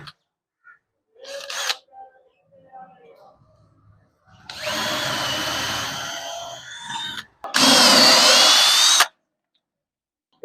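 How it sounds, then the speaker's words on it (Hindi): A power drill fitted with a 5 mm bit bores into wood at speed setting 2, whirring loudly in two sustained bursts of several seconds each after a few short handling clicks. "मैंने इसके अंदर 5 mm की बिट लगाई है और अब मैं इसको ड्रिलिंग पे रख देता हूँ।"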